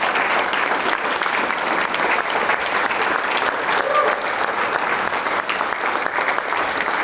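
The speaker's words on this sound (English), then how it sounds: "Let's give Mike a round of applause here as he walks up." An audience gives a steady round of applause as Pro Football Hall of Famer Mike Haynes walks up to the stage, a dense, even wash of clapping at moderate loudness that holds throughout without talk.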